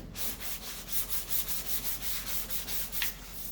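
A sanding block rubs back and forth over body filler on a 1969 Plymouth Satellite, making a quick, even rhythm of roughly a dozen gritty strokes, close and alone.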